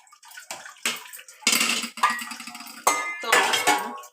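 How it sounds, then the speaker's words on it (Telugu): A cooking pot being scrubbed and rinsed under running water at a kitchen sink, with bursts of splashing and faint metal clinks in irregular surges, close and fairly loud, no talking. "నేనైతే ఆ గిన్నె క్లీన్ చేసి మళ్ళీ పెట్టుకుంటాను"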